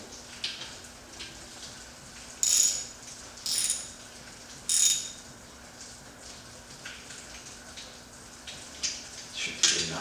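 A hand ratchet tightens a bolt during a coolant drain job, giving a few short bursts of quick metallic clicking up close, spaced apart by quiet pauses, with no voices.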